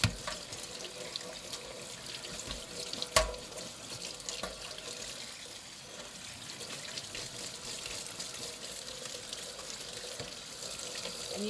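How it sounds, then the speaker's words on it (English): Running tap water splashes steadily into a sink while mandarin oranges are shaken and rinsed, a soft continuous rush with a brief clatter early on. "And we're just gonna kind of shake and rinse these."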